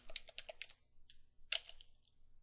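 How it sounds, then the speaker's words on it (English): Keys tapped on a computer keyboard while entering a command in a terminal, a quick burst of close clicks, a short pause, then another cluster of keystrokes. "Now let's type in uLimit"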